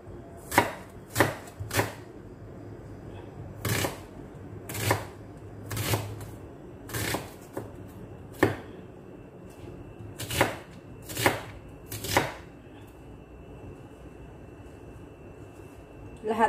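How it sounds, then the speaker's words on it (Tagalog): A knife chops onion into small pieces on a cutting board, sharp close knocks coming in an uneven run of about a dozen strokes with brief pauses between bursts. "At yung ating onion, hiwain din natin guys ng maliliit."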